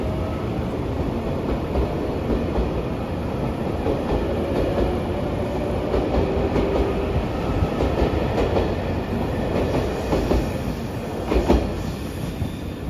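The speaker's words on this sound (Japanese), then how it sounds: "観音寺駅12時39分発白いアンパンマン列車特急潮風9号特急石槌9号松山駅" The white Anpanman limited express on a JR Shikoku line rolls steadily past, with continuous loud rumbling and clickety-clack wheel rhythm on the rails throughout.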